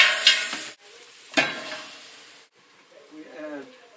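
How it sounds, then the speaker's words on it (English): Eggplant, zucchini and tomato are tossed into a pan of frying spice mix and oregano, producing short scraping stirs and quick sizzling bursts separated by brief near-silent gaps, with a faint voice-like murmur near the end. "Stir it and then quickly add the vegetables, otherwise the spice mix and oregano will burn."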